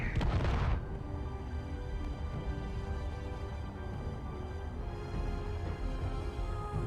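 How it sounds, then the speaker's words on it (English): Heavy gunfire bursts in the video game Space Engineers, a loud volley of booming shots at the start that quickly gives way to a steady low rumbling drone, with no voices. "That seemed like such an unnecessary amount of gunfire for a threat this small."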